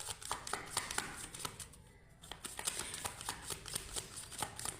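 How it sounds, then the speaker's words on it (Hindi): Tarot cards being shuffled by hand, a quick run of soft riffling flicks and taps up close, with a brief pause midway before the shuffling resumes. "मैं एक बार और शफल करती हूँ।"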